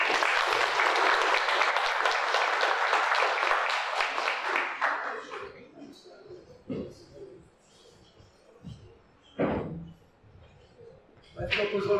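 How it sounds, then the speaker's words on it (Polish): An audience at a lecture hall talk bursts into dense applause that lasts about five seconds and then fades, followed by scattered noises and brief speech. "Krótkie, szybkie, gromkie brawa i jedziemy."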